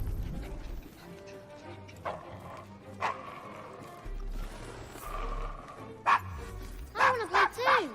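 A dog in the Assassin's Creed Syndicate video game barks a few times, sharp and mid-distance, over a murky street ambience with faint hoof clops, ending in a louder cluster of yelps.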